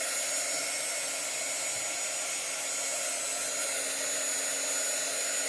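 A hair dryer blows steadily on a shirt freshly inked with chalk-paste ink, a loud, even, continuous whoosh with no pauses.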